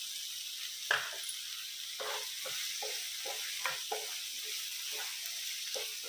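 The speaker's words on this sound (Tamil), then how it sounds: "இந்த ஸ்டேஜில் இப்போ தக்காளி ஆட் பண்ணிக்கலாங்க." Tomatoes frying in a pan for prawn gravy, giving a steady close hiss of sizzling oil with occasional soft stirring knocks.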